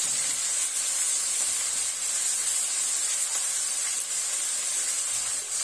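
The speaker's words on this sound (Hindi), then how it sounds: "हल्का से इसका खट्टापन जाने के लिए इसको मैं भून रही हूँ।" Bamboo shoot (karil) for pickle frying in a pan, giving a steady, close, broadband sizzle with a hissing, steamy texture that holds evenly throughout without talk.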